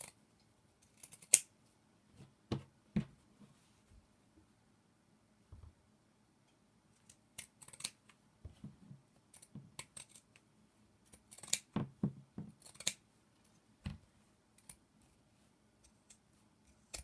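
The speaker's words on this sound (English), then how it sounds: "I'm just going to keep trimming." Scissors snip and trim upcycled fabric for homemade cleaning cloths, with quiet, scattered cuts arriving in irregular bursts and short pauses between them.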